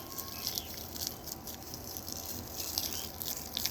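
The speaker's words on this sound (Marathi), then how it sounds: "बारीक बारीक पाणी मारतो" Fine spray of water sprinkled over a freshly sown seedbed outdoors: a soft, continuous hissing patter, faint and steady throughout with no talk.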